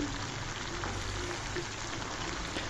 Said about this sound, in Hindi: इसको 5 मिनट और फ्राई करेंगे।